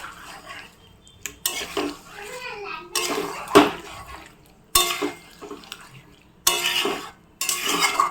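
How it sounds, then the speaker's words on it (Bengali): Ginger paste is slowly stirred and fried in a pan for a cauliflower roast, with intermittent scraping and clinking of a spoon against the pot, spaced several times, while a voice is heard at times. "তো আদা বাটাটা দিয়ে আমি এখানে ধীরে ধীরে কষাবো"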